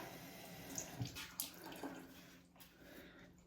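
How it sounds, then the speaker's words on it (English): A clean towel held under a running tap, giving a soft, steady splash of water with a few faint drips and handling sounds, quiet and close, with no talking. "So this is a clean towel. So I'm just gonna get it wet."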